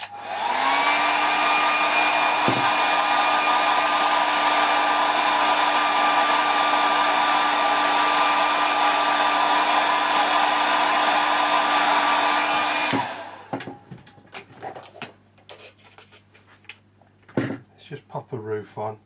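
A hair dryer drying a watercolour painting blows as a loud, steady whirring roar for about thirteen seconds, then cuts off, leaving scattered small clicks and handling knocks.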